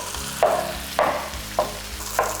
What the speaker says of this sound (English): Now I'm going in with the cooked rice.